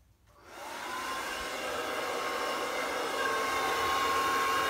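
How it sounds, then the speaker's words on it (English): An electric blower switches on and runs as a steady, fairly loud whooshing roar, aimed down at an acrylic puddle pour painting from above, with no talking. "This is the blower, so I'm gonna do it from high up."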